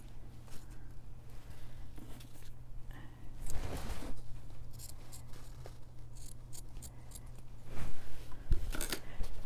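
Fabric scissors snip through soft flannel for Christmas bows, a couple of crisp cuts standing out against a steady low hum, with no talking.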